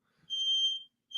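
A shrill, steady smoke alarm beep sounds for about half a second, then a second beep starts right after a short gap. No one speaks.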